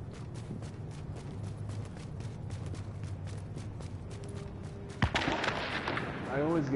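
Gunfire and explosions from Tom Clancy's The Division: rapid sharp shots patter in the background, then a loud blast bursts out and rumbles on.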